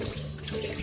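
Water from rinsed potato peels is poured into a kitchen sink in one short, steady splashing rush, close up, with no talk.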